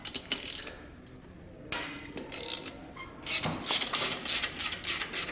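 A ratchet fitted with an extension loosens exhaust nuts on a Harley-Davidson Softail, giving quiet, close clicking and ratcheting bursts with brief pauses between strokes.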